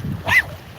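At a beach, a dog lets out a single short bark partway through, mid-distance and moderately loud, with low ambient rumble around it and no other barks.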